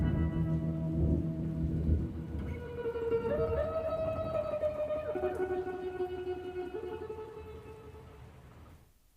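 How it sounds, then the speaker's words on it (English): Thunderstorm with rolling, low thunder and rain falling steadily; the rumble swells early, then fades slowly into the wash of rain. "But then recently during a thunderstorm,"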